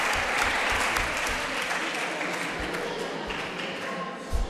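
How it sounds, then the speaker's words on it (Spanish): Steady applause from an audience fills the room for a volunteer at a diversity event, dense and sustained throughout without letup. "Venga, un aplauso para ella,"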